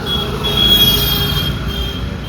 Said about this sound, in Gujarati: હવે મેટ્રો જાય